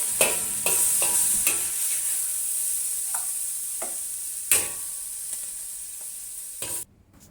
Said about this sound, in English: Continue stir frying over high heat until the water is nearly dry out.